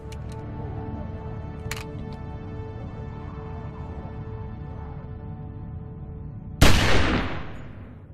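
A single loud gunshot rings out near the end of a tense scene in Telltale's The Walking Dead game, cracking sharply over a low ambient drone and decaying quickly, with no voices at that moment.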